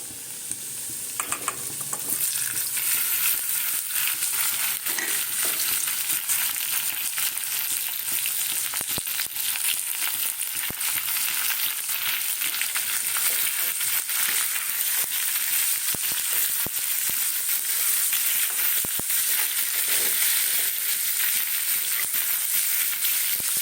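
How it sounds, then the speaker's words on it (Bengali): Indian gooseberry pieces frying in oil with panch phoron spices, a dense continuous sizzle and crackle running throughout with scattered sharp pops and occasional stirring scrapes, close and fairly loud. No voice is heard. "এটা দিলাম পাঁচ ফোড়ন এগুলো ভাজা হয়ে গেছে এইবার দেব আমলকিটা যেটা কেটে রেখেছিলাম"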